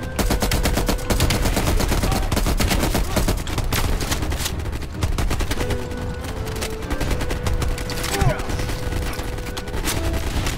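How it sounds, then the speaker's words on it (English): Rapid sustained machine-gun bursts from an M60 in the Call of Duty Cold War campaign, dense and loud throughout with brief pauses, layered over game music and effects, with a voice faintly present. "Oh, I know this gun, M60."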